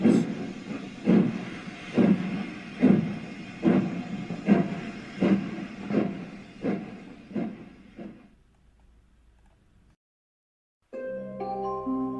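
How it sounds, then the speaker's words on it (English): A model railway train rolls over track signals, giving about nine evenly spaced rhythmic clunks that fade out, then a short pause before a brief tonal sound at the end. "the train passes over the signals, and they set off into the night."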